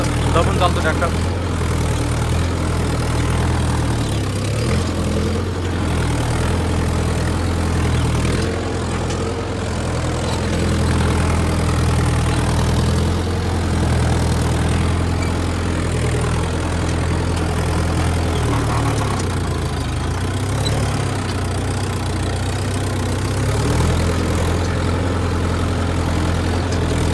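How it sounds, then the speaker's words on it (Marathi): A Mahindra Yuvo 575 DI tractor engine runs steadily under load, a loud, continuous low diesel drone with a faint rumbling pulse that holds for the whole stretch. "बघा मित्रांनो, खूपच दबून चालतो ट्रॅक्टर."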